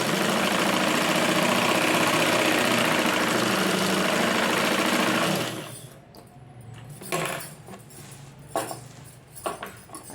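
A sewing machine stitches a blouse lining with a fast, steady mechanical whir for several seconds, then stops, leaving quiet clicks and fabric handling.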